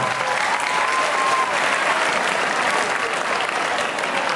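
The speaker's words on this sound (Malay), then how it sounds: "Bagilah tepukan Ustaz kamu" Steady, dense applause from an audience at an Islamic new year celebration, loud and continuous across the whole stretch.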